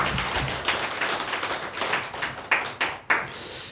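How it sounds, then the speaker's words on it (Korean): A church congregation claps in a dense round of applause, with a few separate sharp claps ringing out as it winds down at the end. "하나님께 영광 박수 한번 올려드립니다."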